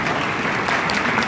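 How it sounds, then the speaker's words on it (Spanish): Applause from an audience at a formal panel event on Veracruz's new criminal justice system, a steady dense wash of clapping heard briefly and fairly close. "Fuerte el aplauso, por favor."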